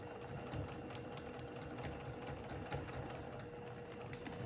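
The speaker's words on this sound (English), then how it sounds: "I'll just do a little back stitch" A sewing machine runs steadily while back stitching a quilt block at a seam intersection, with an even, rapid needle rhythm, close and continuous throughout.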